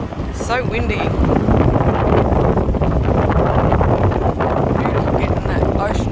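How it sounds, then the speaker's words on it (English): Wind buffets a microphone outdoors near the ocean coast: a steady, loud roar of rumbling gusts that runs the whole time with no break. "It's so windy."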